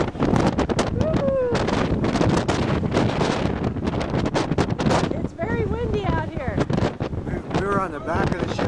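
Strong wind buffets the microphone on the deck of an Alaska cruise ship, roaring steadily throughout while people talk and exclaim over it.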